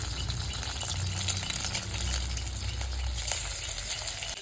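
Two eggs fry in a pan, a steady close sizzle with faint stirring rattles, continuous and moderately quiet throughout.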